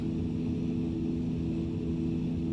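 Simulated engine of a small U-15 motor glider in the X-Plane 11 flight simulator, running at high power near the red line, a constant loud droning hum with no change in pitch.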